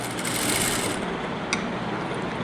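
A sewing machine stitches a hand-cut fabric sleeve from bottom to top, a steady close mechanical chatter that eases off after about a second, with one sharp click partway through.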